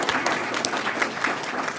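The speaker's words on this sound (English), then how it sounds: "could we just get a round of applause for Bradley," Audience applause at a school board of trustees meeting, a dense burst of clapping from a room of people, steady and fairly loud throughout.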